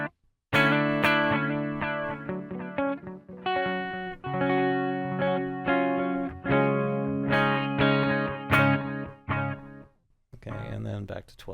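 An electric guitar plays through a Donner REVECHO delay/reverb pedal set near slapback. Picked notes and chords ring out, each followed closely by a short repeat that blurs into a reverb-like tail, ending in a brief pause and a final strum.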